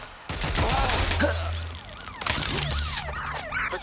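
A wailing ambulance siren from the video game Watch Dogs Legion sweeps up and down through a police chase, loud and close, with engine hum and a brief crackle of gunfire-like bursts around it.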